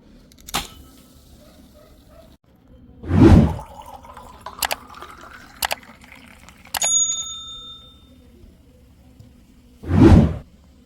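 Whisky poured into a glass and topped up with coke, brief liquid splashes and pours with a few clinks and a ringing tap between them, close and clear.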